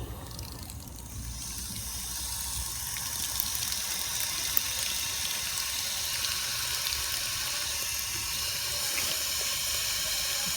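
Water gushes steadily from a tap while many water balloons are filled at once, a continuous rushing hiss that grows slightly louder after the first seconds and holds with small splashes and a faint click.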